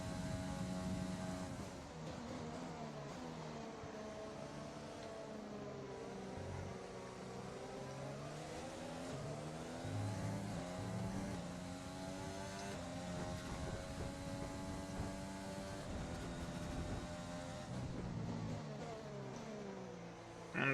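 Formula 1 car engine in the racing game F1 2020 during practice laps, droning loudly throughout with pitch sweeping down and up through corners and gear changes, close and unbroken with no speech.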